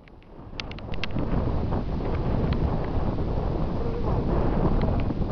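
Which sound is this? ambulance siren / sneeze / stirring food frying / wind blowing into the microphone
wind blowing into the microphone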